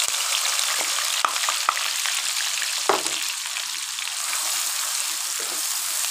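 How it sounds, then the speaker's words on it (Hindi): Onions hiss and crackle in 150 grams of hot ghee for a palak gosht curry, a loud steady sizzle with a few sharp clinks and one stirring scrape near the middle, no talking. "ये जो हमने घी रखा हुआ था 150 ग्राम घी, अभी डालेंगे इसमें प्याज 400 ग्राम"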